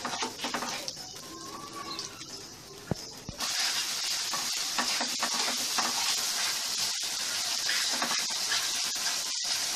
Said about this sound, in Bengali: এবার এটাকে একটু আবার পুনরায় ভুনে নিতে হবে, কষে নিতে হবে.